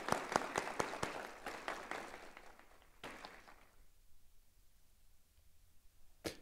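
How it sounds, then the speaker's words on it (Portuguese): A round of applause for a colonel at a formal legislative ceremony in Goiás, dense clapping that fades out over a few seconds, followed by near quiet and one late clap. "a quem eu peço aí uma salva de palmas."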